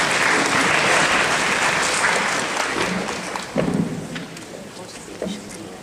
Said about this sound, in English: We can ask one more round of applause for our speakers